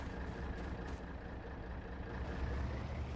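A truck in a farming video game set on a British map gives off a steady, low engine rumble with a faint hiss layered over it, holding at an even level throughout with no talking.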